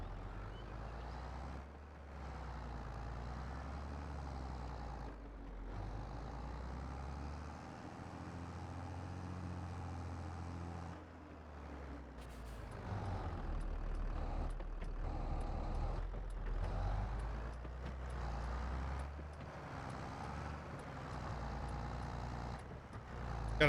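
A truck in Farming Simulator 22 grinding uphill in low gear, a steady loud low engine drone that rises in pitch partway through and continues alone without talk.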